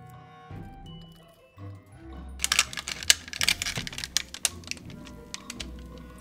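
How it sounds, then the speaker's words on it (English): Lupin flour tortilla dough pressed between parchment sheets in a tortilla press, giving a burst of close crinkling and crackling taps over a low rumble, with no talking. "I'm gonna place our dough ball in the center, and I'm gonna place another parchment sheet on top"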